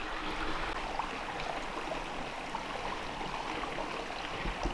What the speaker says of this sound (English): there's water cascading out this crack over here